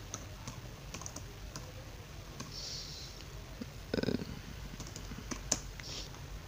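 A Google search is typed on a computer keyboard as soft, irregular keystrokes close by, with a brief louder cluster of taps partway through and no speech.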